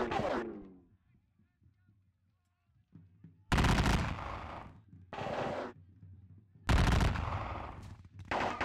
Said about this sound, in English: let's start doing some shots on these grenadiers